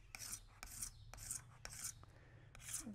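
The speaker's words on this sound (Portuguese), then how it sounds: "eu vou utilizar uma serrinha" A small hacksaw blade rasps grooves into a plumbing pipe, five separate scraping strokes in an even rhythm, close and fairly loud over a low steady hum.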